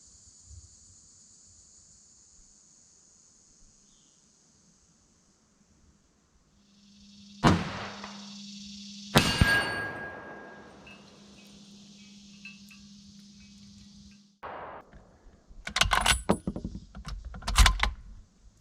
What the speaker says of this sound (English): Okay, the gong, 10-inch gong on the right.